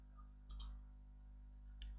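A computer mouse clicks quietly on a desk. Two quick clicks come close together, and a single click follows a moment later, all against near silence.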